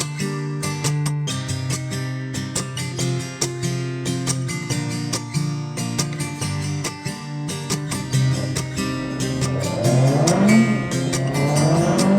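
A car engine drones steadily from inside the vehicle, with rhythmic clicking and engine pitch rising and falling as it accelerates.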